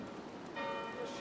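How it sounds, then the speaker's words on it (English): Church bells ringing in the video game Assassin's Creed Valhalla, a faint tolling tone rising over a soft rain-like ambient wash, moderately distant and sustained. "Do you not hear the bells?"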